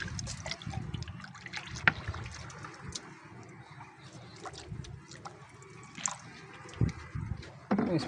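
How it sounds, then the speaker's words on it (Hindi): Water poured into a car engine's radiator, a thin trickle and dribble with occasional drips and splashes, fairly close and steady. "चलो इसके अंदर पानी डालते हैं जी, और इसमें डालते हैं जी पानी।"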